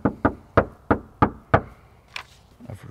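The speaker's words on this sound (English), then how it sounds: "First knock of the day." Knuckles rap on a front door in six sharp, evenly spaced knocks, loud and close, followed by a couple of fainter knocks or taps trailing off with no talk.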